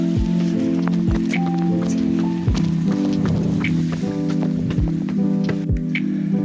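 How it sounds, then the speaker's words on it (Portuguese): Someone runs through steady rain, with a constant patter on surfaces, faint rustling, and a regular beat of footfalls close by. Background music plays throughout. "Tive que vir correndo na chuva."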